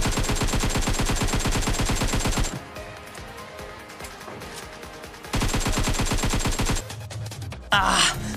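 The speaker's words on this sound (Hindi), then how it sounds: "बहुत ज्यादा गोलियां पड़ चुकी है मुझे, मैं कवर नहीं दे सकता अपने साथियों को।" Rapid automatic gunfire from the Free Fire video game, loud sustained bursts that pause for a quieter stretch, then resume before a final sharp blast.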